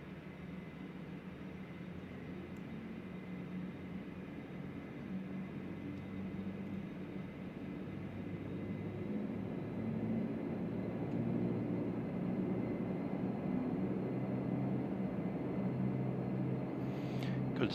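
In a flight simulation of a Horizon Bombardier Q400 (DH8D) turboprop, an engine spools up during start, a low, steady rumble that slowly grows louder over several seconds with no talking.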